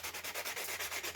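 Sanding pad rubbing tool marks off pounamu (jade): fast, even rasping back-and-forth strokes, close and steady throughout.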